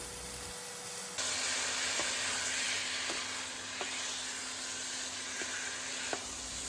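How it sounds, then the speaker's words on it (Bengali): Chicken pieces added to a pan of cooked-down spice masala for a red meat curry sizzle and fry in a steady, even hiss, with a few soft scraping stirs, fairly quiet and without talk. "মশলা ভালো করে কষানো হয়ে গেলে ধুয়ে পরিষ্কার করে রাখা চিকেনগুলো আমি মশলার মধ্যে অ্যাড করে দেবো।"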